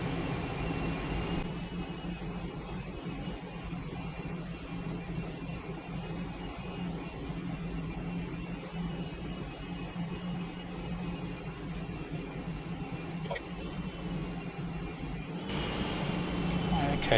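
Milviz T-38 Talon jet taxiing in Microsoft Flight Simulator, a steady sustained turbine whine with a high tonal line and broad rumble, constant in level throughout and rising slightly at the end.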